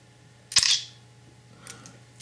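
A single sharp mechanical shutter click from a Panasonic Lumix DMC-GM1 camera up close, followed by a fainter rustle of handling afterward.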